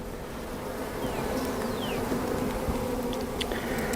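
Honeybees buzz steadily in a dense, continuous drone during an inspection of a smallish hive colony, with a few individual bees flitting past close by.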